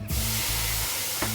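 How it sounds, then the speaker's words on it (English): Steak sizzles in a hot pan, a soft, steady hiss with a quick spattering burst at the start and another near the end. "When you hear the sizzle in your meat"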